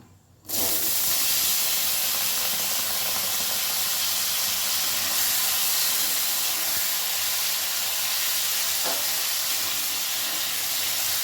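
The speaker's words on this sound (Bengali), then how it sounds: "আলুটা আমি একটু নাড়াচাড়া করে ভেজে দেবো" Diced white potatoes frying in hot oil for a simple potato curry, a loud, steady broadband sizzle that starts abruptly and hisses on continuously, with a faint scrape or two of stirring.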